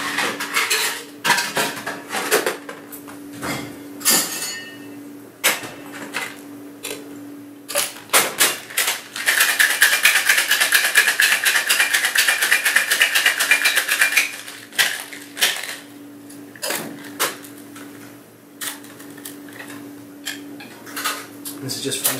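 A bartender shakes a pre-batched Alexander-style cocktail with crème de cacao over ice in a shaker, a loud steady rattling run in the middle with clinking bar sounds before and after.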